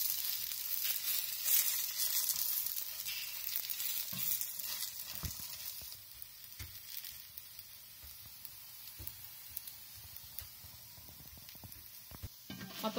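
A parotta fries in a little oil on a pan over medium-high flame, a soft steady sizzle with occasional taps and presses, fading slightly toward the end, no voices.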